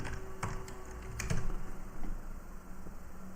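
Keys tapped on a computer keyboard while a field ID is entered in Android Studio, a quick, light run of clicks close by, fairly faint against a steady background hum.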